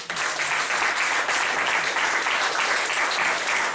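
A church congregation applauds at a worship service, steady loud clapping from many hands filling the room without a break.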